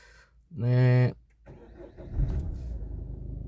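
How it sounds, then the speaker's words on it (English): A 2012 Peugeot 308 engine is started up close: a brief tonal sound comes first, then the engine turns over and settles into a steady, rumbling idle. "So let's start the engine again just to be sure we're on the safe side."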